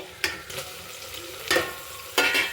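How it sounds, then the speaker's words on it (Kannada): Tomato, mint and ginger-garlic paste fry in hot oil with a steady low sizzle, while three spoon-scraping stirs scrape the pan at intervals, close and fairly quiet, with no voices. "ಇದು ಟಮಟ ಸ್ವಲ್ಪ ಫ್ರೈ ಆಗಲಿ ಸ್ವಲ್ಪ ಸಾಫ್ಟ್ ಆಗಲಿ"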